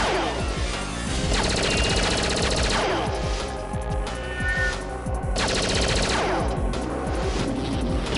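Rapid automatic gunfire from the Nintendo 64 game Perfect Dark, fired at a statue: dense, loud bursts of shots with crashing impacts running almost the whole time, with no talk.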